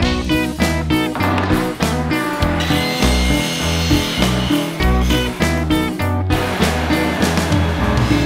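Short pieces of PVC pipe are being hand-sawn for a hammer prop build, giving steady back-and-forth rasping strokes, close and loud, repeating for several seconds with no talk.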